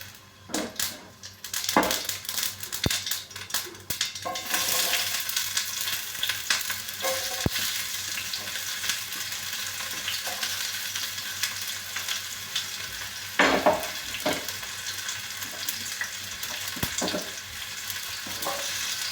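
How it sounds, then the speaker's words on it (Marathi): Onion and mustard seeds fry in a hot pan for a Marathi toor bean amti, giving a steady, close crackling sizzle with scattered pops and stirring scrapes throughout, no voices. "मोठा करते गॅस आता आणि कांदा घालून द्यायचा. मोहरी फुटू द्यायची थोडीशी."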